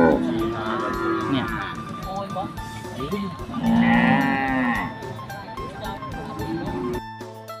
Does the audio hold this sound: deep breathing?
no